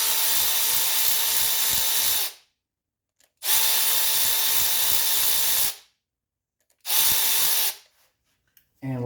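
A power tool works a 10 mm fastener loose from the filter on a 1985 Mercedes 300D. The tool whirs in three bursts of about two seconds each, close and loud, with near silence between them.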